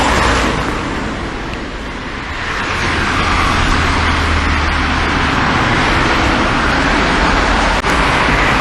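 Steady road traffic with a continuous roar of cars passing, a busy flow of around ten vehicles a minute on a morning road, moderately loud and fairly near throughout, with no talking.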